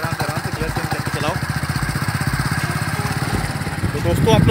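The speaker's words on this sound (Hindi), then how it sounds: "दीपक चला रहे हैं ना बाइक" A motorcycle engine runs at a steady, pulsing putter as a beginner rides the bike during a lesson, loud and close throughout with a slight rise in revs at the end.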